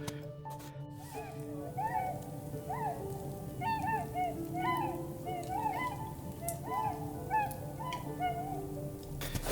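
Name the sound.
swan calls near a lake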